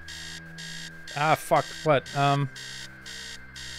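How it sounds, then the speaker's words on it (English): An alarm clock blares upstairs in the horror game Stories Untold, a repeating pulsed electronic buzz heard throughout while someone speaks briefly in an exclamation over it. "Upstairs, sound of an alarm clock blaring."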